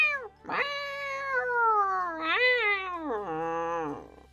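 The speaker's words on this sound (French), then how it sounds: "Puis, il se met à miauler très fort." A cat gives a loud, drawn-out meow that rises and falls in pitch, breaking into several connected cries of nearly equal strength, close and clear against a quiet background.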